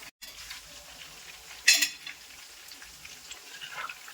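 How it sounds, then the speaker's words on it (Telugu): Nethallu fish pakoda frying in oil as it is slowly stirred, a soft steady sizzle with a sharp scrape of the spatula partway through. "ఇలా నిదానంగా కలుపుకుంటూ ఫ్రై చేసుకోవాలి"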